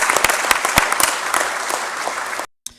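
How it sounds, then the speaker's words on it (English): A gathering of Russian officials applauds after a unanimous vote, heard from a recording: dense, loud clapping with sharp individual claps, cut off abruptly before a brief final sound. "So now they're clapping their vote."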